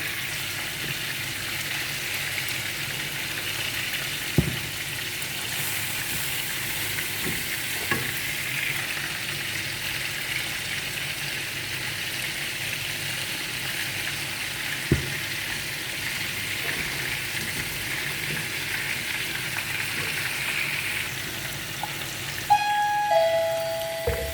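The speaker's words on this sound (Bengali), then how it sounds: "মাছ একটু কড়া করে বাজলাম কারণ এখানে তো আমরা রান্না করব" Small sea fish fry crisp in a hot tawa, making a steady, continuous sizzle with a few faint clinks throughout and no one talking.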